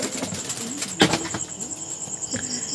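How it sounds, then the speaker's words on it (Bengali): Diamond doves are let go and take off with quick bursts of wing flapping close by, one sharp flurry standing out midway, over a faint chirping background. "এই যে টোটাল হচ্ছে 6টা ডায়মন্ড ঘুঘু ছেড়ে দিলাম।"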